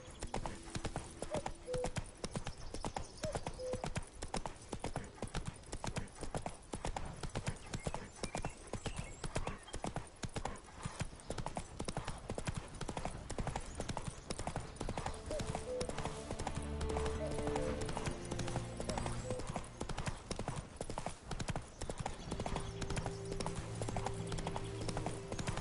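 Roach, the horse in The Witcher 3, gallops with a steady, dense clip-clop of hooves throughout, joined by a brief whinny and game music in the background.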